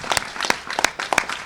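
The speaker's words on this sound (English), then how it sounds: "let's give it all a round of applause" Audience applause at a Seattle mayoral press announcement: a short burst of scattered, sharp hand claps from a modest crowd, close and fairly loud, with no one talking.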